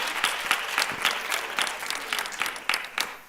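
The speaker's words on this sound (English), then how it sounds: "I think it'll be an injustice not to give her another warm round of applause." A warm round of applause rolls through a conference audience, uneven and lively, with distinct individual claps standing out across the hall.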